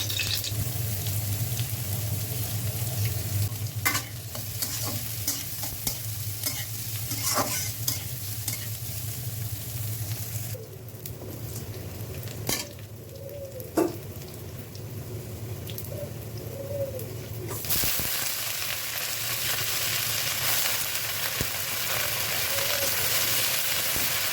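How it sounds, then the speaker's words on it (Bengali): Dried red chillies fry in a pan with a constant crackling sizzle and occasional stirring scrapes, and birds chirp faintly in the background. The sizzle brightens and intensifies near the end. "মরিচ ভেজে নিচ্ছি শাকের সাথে খাওয়ার জন্য"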